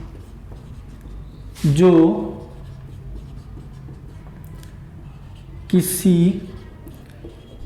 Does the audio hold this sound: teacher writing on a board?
yes